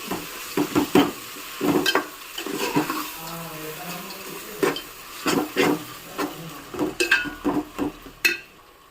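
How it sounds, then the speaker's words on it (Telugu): Gongura dried prawn curry being stirred in a pan: a spoon scrapes and clinks against the metal in irregular strokes over a soft sizzle, close and fairly loud. "ఇప్పుడు దీన్ని చక్కగా అంతా కలిసేలా కలుపుకోవాలి."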